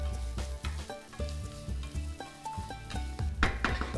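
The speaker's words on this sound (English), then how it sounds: "I'm going to add chopped onions, about 2 of them, small numbers, and saute this now." Chopped onions and green chillies sizzle steadily in a hot pan, with stirring scrapes and light clinks of a utensil against the pan, close up and with no talk.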